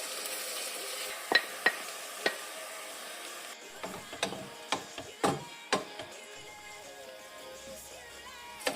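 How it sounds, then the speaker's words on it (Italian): Onion fries gently in a pan for Sicilian baked anelletti pasta, a faint steady sizzle broken by several sharp clicks and taps of a utensil against the pan. "facciamo soffriggere finché la nostra cipolla diventerà dorata"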